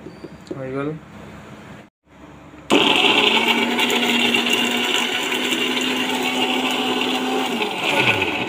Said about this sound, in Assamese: এইখিনি মিক্সিত দি দিওঁ